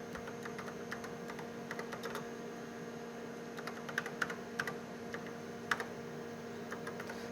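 Soft, quick keystrokes on a computer keyboard as a robot command is typed in a lab, irregular clicks over a steady electrical hum.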